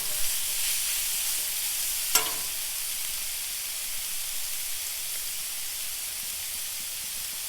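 Thin-sliced round steak sizzles on a hot Blackstone griddle, a steady, close hiss of frying meat with one sharp tap near the middle and no talking.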